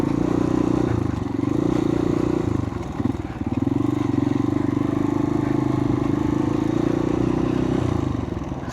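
A motorcycle rides along a road in the aftermath of a typhoon, its engine a steady loud low drone with a brief dip midway, close to the listener, with scraping and clattering road noise underneath.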